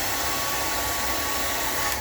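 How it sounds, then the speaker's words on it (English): Steady, loud whooshing roar of a blow dryer running close by as a beard is combed through, unbroken for the whole stretch with no talking. "I'm just gonna run my comb through it just a little bit with the blow dryer"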